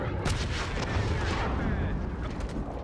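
Gunfire in the video game Call of Duty Modern Warfare, with an MP7 loadout, comes as a dense, loud barrage of shots and booming blasts under a mix of other game sound.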